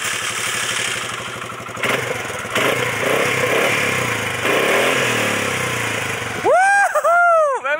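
A quad bike engine runs with a steady, loud mid-pitched drone and clatter, with some voices nearby. Near the end a sharp rising and falling whine sweeps past.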